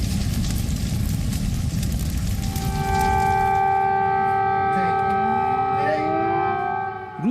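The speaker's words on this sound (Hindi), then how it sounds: "कीव और ओदेसा समेत कई शहरों में सायरन बजे और लोगों को सुरक्षित जगहों पर जाने की सलाह दी गई" Civil defense sirens wail over Kyiv during a Russian missile attack, several rising and falling tones layered loud and sustained over broad rumbling background noise, the steady pitches holding and then sliding near the end.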